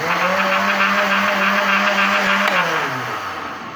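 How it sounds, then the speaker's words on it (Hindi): An electric blender whirs loudly while blending a Rooh Afza milkshake of fresh milk, a steady high motor whine that drops in pitch near the end as it winds down, with no talk. "अब हम इसे ब्लेंड करके शेक बनाते हैं।"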